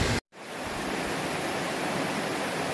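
A waterfall beside the Appalachian Trail in Tennessee gives off a steady, broadband rushing roar, loud and close, broken only by a brief cut at the very start.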